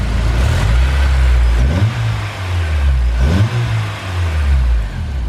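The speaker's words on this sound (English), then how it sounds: "You hear how quiet the motor is?" A Honda S2000 engine runs loudly and steadily nearby, its pitch rising and falling in a couple of gentle revs, with no voices.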